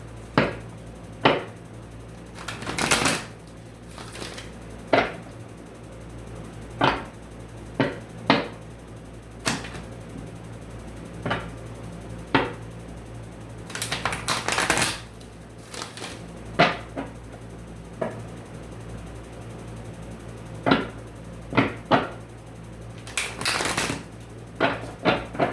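Tarot cards are shuffled by hand in a quiet room, a series of sharp riffles and taps spaced irregularly across the stretch, some in quick clusters, fairly close and moderately loud.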